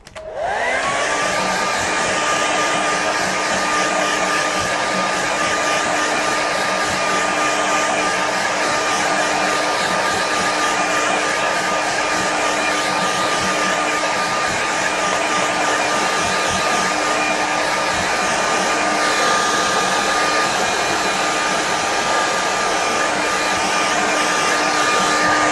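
A hair dryer blows steadily to dry a watercolour painting, a loud continuous whirring roar with a high whine that runs unbroken from start to finish, with no talking.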